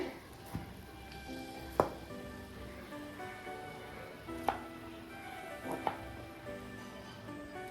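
A metal spatula cuts through a freshly cooked evening snack in the pan, giving a few sharp, scattered scrapes and knocks over a steady low background hum, with no talking.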